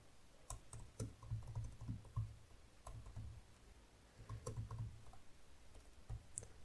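Keys clack steadily on a computer keyboard as code is typed, soft irregular clicks in short bursts with brief pauses, fairly quiet and close.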